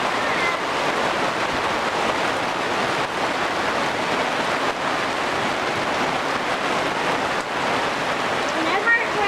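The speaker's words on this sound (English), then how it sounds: "I just want to show you the rain." Steady, dense rain hiss fills the scene, a continuous wash of falling water with no breaks, fairly close and even in loudness.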